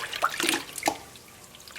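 Water splashes and trickles in a brief rinse of a baby squirrel monkey in a bath, a few light sloshes and drips close by, fading to quiet.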